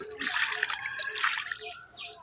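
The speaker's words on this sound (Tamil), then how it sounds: "தண்ணீர் தெளிச்சுக்கலாம்" Water sprinkled over freshly planted vetiver growing in a sack, a steady close splashing and trickling wash lasting about two seconds, with no talk over it.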